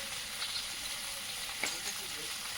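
Dried red chilli sizzles steadily in a little hot oil in a wok, a constant close frying hiss with faint crackles throughout.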